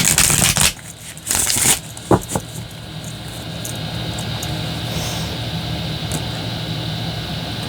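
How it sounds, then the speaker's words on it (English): Two bursts of riffling tarot cards shuffled close by, followed by a couple of sharp taps, then a steady low hum fills the rest. "I just heard one more shuffle and then cut"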